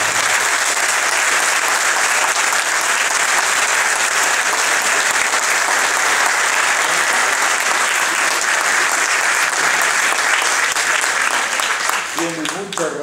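Audience applause rolls on steadily for the whole stretch, a loud, even wash of many hands clapping with no break, thinning only at the very end as a voice begins.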